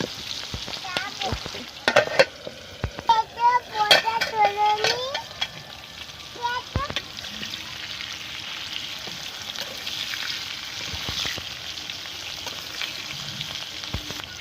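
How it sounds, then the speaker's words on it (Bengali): Butter beans fry under a lid in a pan, giving a steady sizzle throughout with a few sharp clinks and scraping stirs near the start while a voice speaks briefly over them. "আমরা চাপা দিয়ে দিয়ে ভেজে নিই"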